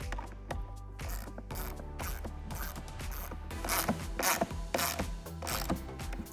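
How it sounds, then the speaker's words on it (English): Torx T30 screws are driven into a Mustang air box lid with a hand tool, giving a series of close, quiet ratcheting clicks and mechanical turning sounds in short repeated bursts. "we're gonna put it on, and just tighten it up with these six provided screws"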